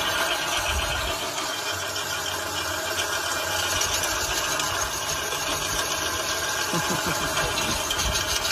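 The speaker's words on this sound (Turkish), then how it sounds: "Motor sesini hissedebiliyorum." An engine idles steadily with a continuous low hum and faint rattling vibration at a moderate level, with no speech over it.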